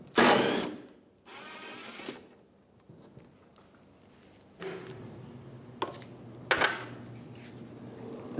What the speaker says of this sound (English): we're going to use a 10mm socket and take that bolt out